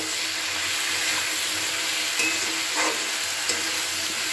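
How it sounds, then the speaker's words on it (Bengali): Flat beans fry with salt and turmeric in a pan, giving a soft, even hiss, with a few light scrapes and taps of stirring. "দিয়ে আবার খুব ভালো করে এটাকে নাড়াচাড়া করে বেশ কিছুক্ষণ এটাকে ভাজা ভাজা করে নেব"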